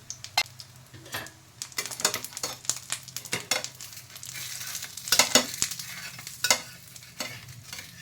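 Zucchini thalipeeth flatbread fries in an oiled pan with a soft crackling sizzle, broken by irregular scraping and clattering of utensils against the pan, close and moderately quiet.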